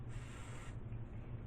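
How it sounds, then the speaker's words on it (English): A short hissing burst of olive oil cooking spray onto a hand in a home kitchen, lasting well under a second, followed by soft rubbing. "I'm just going to spray a little bit"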